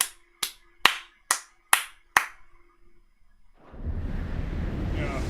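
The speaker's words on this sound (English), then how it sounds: "big round of applause for Creative Business Unit 3" Six sharp, isolated claps spaced evenly at close range, followed by a short lull and then a swelling rush of broad applause or noise near the end.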